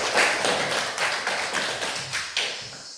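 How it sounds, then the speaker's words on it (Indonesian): A class applauds together during an on-the-job training lesson, with close, loud, somewhat uneven clapping in quick bursts that fades toward the end. "kita tepuk tangan untuk semua"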